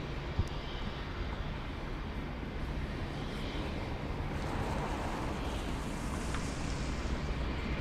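Lufthansa airliner slowly taxiing at Munich airport, a steady low engine rumble and broadband roar heard from a distance, with no talking.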